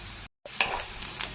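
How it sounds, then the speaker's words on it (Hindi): Onions fry in a pan toward golden with a soft sizzle, broken by a sudden brief dropout, then a few scraping stirs over the bubbling. "प्याज को टे गोल्डन कलर हवा पर्यंत दबा"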